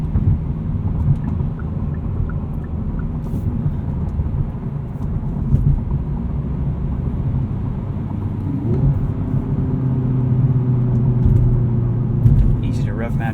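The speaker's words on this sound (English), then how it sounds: "Match downshifts." A 2019 Hyundai Veloster Turbo R-Spec engine heard from inside the cabin during rev-matched downshifts, a steady low drone with brief revving swells, under talk.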